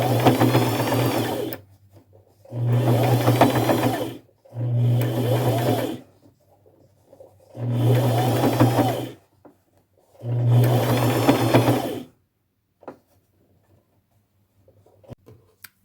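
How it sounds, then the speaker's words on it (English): A sewing machine runs fine straight stitches in pink thread along the edge of a pink ribbon, close and clear in five separate bursts of steady whirring with short pauses between, then goes quiet. "I will just sew as close to the edge of the pink ribbon as I can."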